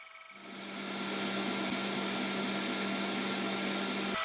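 xTool S1 laser cutter cutting 3mm plywood, its fan and air-assist motor spinning up within the first second into a loud, steady whine with a constant hum, running continuously nearby with no talking.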